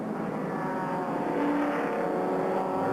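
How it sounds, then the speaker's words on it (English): A BMW 328iS race car passes on a race track, a loud, steady engine roar swelling slightly as it goes by, with no talk over it. "There's the 9 BMW. McMillan now second in the sports class. And this is the 328 IS"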